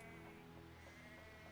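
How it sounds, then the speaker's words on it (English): Sheep bleat faintly in the farm scene of the video game Anno 1800, a few soft bleats over a quiet steady game ambience. "Where are my sheep? My sheep are here."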